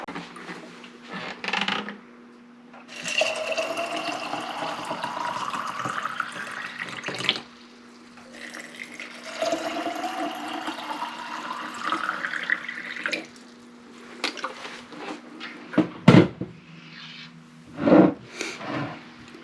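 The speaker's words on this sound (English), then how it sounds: "fill the rest of it with water" Water from a tap pours into a quart jar of dried beans, two long fills with rising pitch as the jar fills, then brief clinks and handling sounds near the end.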